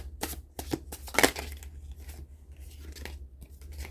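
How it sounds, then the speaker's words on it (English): Tarot cards are shuffled by hand close up, a quick series of soft riffling flicks and slaps over a low background hum. "I'm going to shuffle the cards 3 times"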